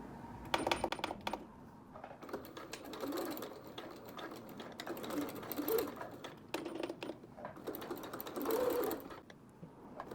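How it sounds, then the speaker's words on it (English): A sewing machine runs a stretch stitch across a seam, its fast needle chatter coming in uneven bursts with short pauses, fairly faint and close. "changing to stretch stitch, and pulling on my beginning threads while I sew across"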